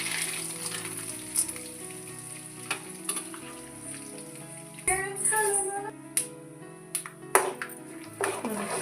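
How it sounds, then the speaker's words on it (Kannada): Peanuts crackle and pop in hot oil alongside crushed ginger, garlic and cumin, a steady close sizzle broken by sharp irregular snaps, with a few metallic stirring clinks. "ಶೇಂಗಾ ಕಾಳು ಚಟ ಚಟ ಹಾಕತ್ತಾವು."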